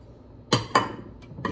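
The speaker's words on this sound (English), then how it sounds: "In go the onions, in go the cucumbers" Chopped onions and cucumbers dropped into a container of watermelon gazpacho: two close, sharp knocks in quick succession, followed by a couple of fainter clinks, in an otherwise quiet room.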